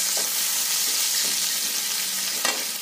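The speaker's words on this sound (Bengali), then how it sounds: "পেঁয়াজটা একটুখানি ভাজা হয়ে গেল" Chopped onion frying in a pan, a bright constant hiss of sizzling oil with faint scrapes of stirring and one clearer knock near the end, close by with no talking.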